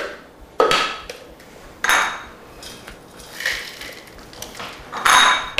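Roasted almonds scraped out of a pan into a grinder: a few sharp metallic scrapes and clatters of a utensil against cookware, spaced apart, with a quieter rustle between them.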